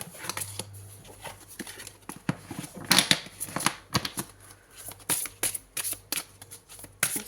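Tarot cards are shuffled close to the microphone: repeated crisp riffling bursts and soft slaps of card stock come in an uneven rhythm over a quiet low hum.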